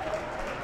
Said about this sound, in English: The Northumbria crowd is making a big impact in this game.